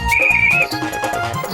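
A whistle gives one sustained shrill tone lasting about half a second, followed by muffled, uneven sounds.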